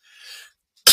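A faint breathy exhale is followed by a brief pause, then one sharp, loud cough close to the microphone.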